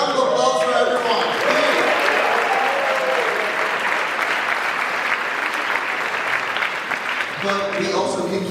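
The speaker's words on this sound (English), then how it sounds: "So another round of applause for everyone." A packed audience at a Pride celebration in New York City Hall applauds, a dense, sustained wash of clapping with cheers that holds steady for several seconds, while a voice is briefly heard speaking at the start and end.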